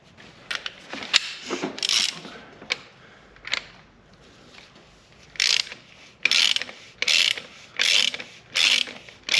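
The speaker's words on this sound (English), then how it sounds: "I'm gonna use a ratchet." Ratchet clicking as bolts are tightened during an LS3 engine install in a 1992 Firebird, scattered quick clicks at first, then a steady run of loud, evenly spaced ratcheting bursts close by.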